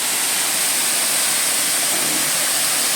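Waterfall in the Western Ghats of coastal Karnataka, a steady broadband roar of falling water that fills the whole clip evenly, loud and close, with no voices.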